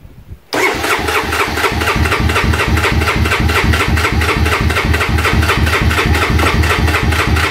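A Honda Fourtrax ATV engine catches after a brief quiet moment and settles into a loud, steady, rapidly pulsing idle close by.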